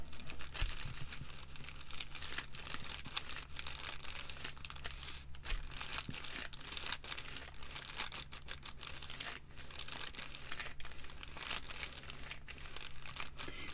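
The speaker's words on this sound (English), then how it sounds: "Just using some parchment paper." Parchment paper handled for a heat-transfer craft project, giving faint, continuous crinkling and rustling with scattered soft crackles throughout, close and quiet with no talking.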